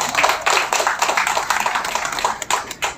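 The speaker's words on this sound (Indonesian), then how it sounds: "Tepuk tangan untuk beliau dulu." A room of people claps for a guest, a dense, lively patter of hand claps with a few sharper, nearer claps toward the end and no talking over it.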